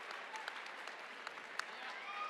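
An audience at a charity dance competition gives a short burst of applause, a dense, even patter of hand claps from a sizeable crowd with a few sharper claps standing out.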